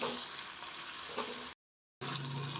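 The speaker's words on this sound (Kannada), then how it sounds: "ಇದು ಸ್ವಲ್ಪ ಫ್ರೈ ಆಗಬೇಕು ಇನ್ನು ಒಂದು ಮೂರರಿಂದ ನಾಲ್ಕು ನಿಮಿಷ ಮೀಡಿಯಂ ಫ್ಲೇಮಲ್ಲಿ ಫ್ರೈ ಮಾಡ್ಕೊಬೇಕು" Red chutney ingredients frying in a pan over a medium flame, a steady close sizzle with soft stirring scrapes, broken by a brief silent gap before the frying hiss resumes.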